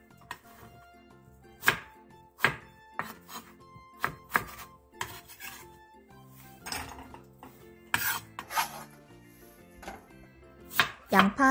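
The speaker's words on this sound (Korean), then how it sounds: "양파 4분의 1개를 채 썰고 청양고추 2개, 홍고추 1개, 대파 2분의 1개는 어슷썰기 해주세요." A knife chops onion, cheongyang chili, red chili and green onion on a board: irregular, crisp strikes close by, some in quick runs, others spaced apart, with no talking.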